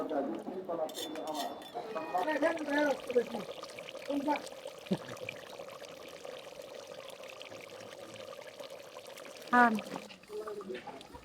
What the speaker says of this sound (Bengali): এখন কিছুটা পানি দিয়ে দেবো।